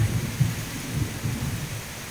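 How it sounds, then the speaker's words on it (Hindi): A stormy roar of low rumbling thunder and blustering wind, mixed with a rain-like hiss, continuous and loud with no voices. "ये देखो तूफान आ गया है, बचाओ तूफान आ गया है"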